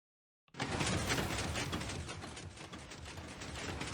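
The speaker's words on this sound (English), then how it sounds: "As soon as we flick this lever, it's going to be on its way." A Minecraft redstone flying TNT bomber set off by a lever, starting abruptly after a short silence and turning into a loud, continuous rattling mechanical churn of pistons and moving blocks that runs to the end.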